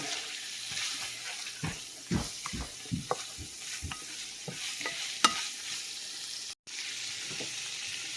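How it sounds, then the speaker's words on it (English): Sausage fries in a pan without oil, a low sizzle under frequent spatula taps and scrapes as it is stirred, close and fairly quiet, with no one speaking. "Our sausage is almost cooked. Just give it a cook a little bit more."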